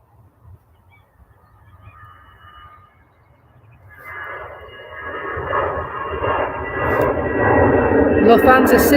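A Lufthansa City jet at Manchester Airport on a chilly afternoon: after a quieter stretch with voices, the engine roar swells from midway and keeps building, loud and close by the end.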